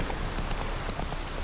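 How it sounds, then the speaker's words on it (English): Steady rain falls in the Velen region of The Witcher 3: Wild Hunt, a dense, even patter of drops spread across the whole moment with no voices over it. "It's almost constantly raining here."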